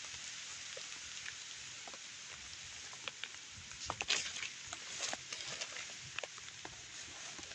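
Rain falls on a field where onions are being sown, a steady soft hiss with scattered nearby drops pattering irregularly on the ground.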